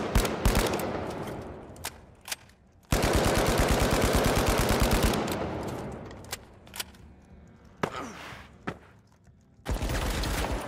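Gunfire in THE FINALS erupts in a sustained automatic burst, preceded and followed by scattered single shots and short clattering volleys, close and loud, with no voices.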